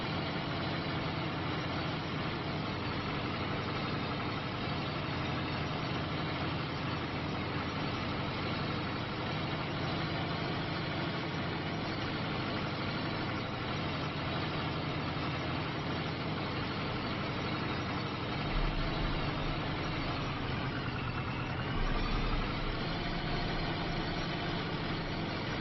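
A tractor engine idles in Farming Simulator 25 with a steady, low, unbroken rumble that continues for the whole stretch, with no voices over it.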